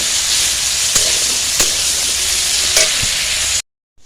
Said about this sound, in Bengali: আলুগুলোকে ভালোভাবে ভেজে নেব।